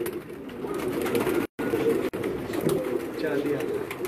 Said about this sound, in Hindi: ये इनका एक और कबूतर है